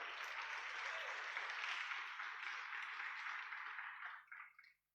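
Congregation applause during a church service: a dense, even wash of many hands clapping at a distance, holding steady at moderate level before thinning out and stopping abruptly.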